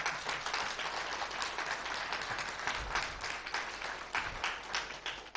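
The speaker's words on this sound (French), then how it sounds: "qu'on peut peut-être applaudir tout de suite." Audience at an annual gathering applauds the team, dense steady clapping filling the room at an even level for several seconds, with a few low thumps underneath.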